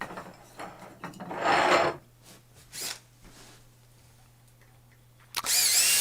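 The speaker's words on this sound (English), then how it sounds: "I'm going to drive all 4 screws into place." Power drill drives screws to mount a vise onto a workbench, short whirring bursts separated by pauses, close and moderately loud with a steady faint hum underneath.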